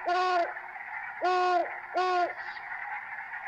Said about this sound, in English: That's the great horned owl.